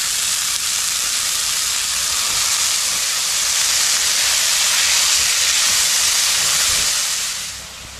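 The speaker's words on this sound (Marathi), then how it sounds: "हे तूप तापलं आहे, आता मी ही पेस्ट टाकणार, आलं, लसूण, मिरची आणि ओवा." Ginger, garlic, chili and ajwain paste dropped into hot ghee sizzles loudly and steadily for several seconds as a bright continuous hiss, easing off slightly at the end, with no talking.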